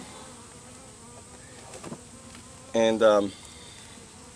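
Honeybees drone in a low, steady hum around an open hive during a colony split, faint and continuous, with a brief voice breaking in near the end.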